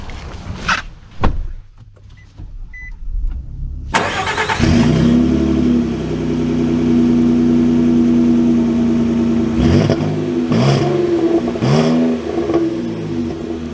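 A 2024 Nissan Frontier SL pickup truck: a few door and cabin clunks, then the engine starts at about four seconds and settles into a steady mid-pitched drone while driving, rising briefly with revs near the end.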